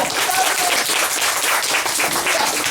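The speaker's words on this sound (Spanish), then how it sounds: "Un aplauso, ya pedí el aplauso." Enthusiastic clapping from a sizable crowd at a school Christmas event with Santa Claus, continuous and loud throughout.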